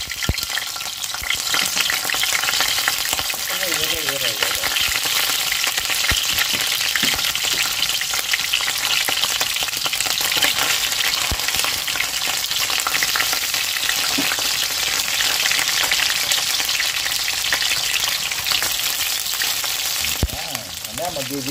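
Sapsap fish frying in hot oil, a loud steady crackling sizzle that fills the whole stretch, with brief stirring clatter near the start and end and no clear talk.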